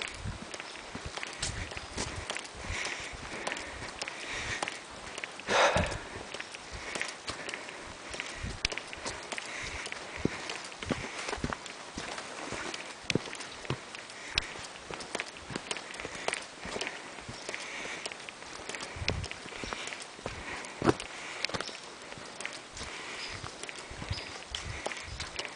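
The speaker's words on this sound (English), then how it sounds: "I don't know if you can hear my footsteps, but that's all I've been hearing" A hiker's footsteps on a forest trail on the Berry Creek Falls loop, a steady rhythmic series of soft close crunching steps with no talk.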